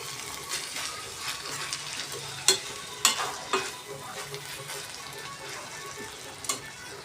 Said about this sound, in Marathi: चला आता या भाज्या नीट परतून घेते